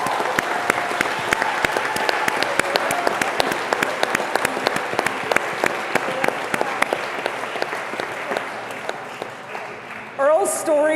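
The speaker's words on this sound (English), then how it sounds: "Let's give Earl a big round of applause." Sustained audience applause at a charity gala, dense clapping from a large crowd for a long stretch, gradually thinning toward the end before a brief voice breaks in.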